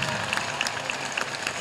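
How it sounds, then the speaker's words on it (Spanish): Steady crowd applause at an outdoor political rally in Bolivia, a dense continuous wash of clapping at moderate distance with a few whistles or shouts poking through. "quiero que desde acá le demos un fuerte aplauso por esa valentía"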